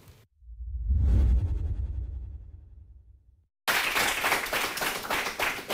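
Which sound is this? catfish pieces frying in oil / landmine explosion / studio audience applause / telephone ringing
studio audience applause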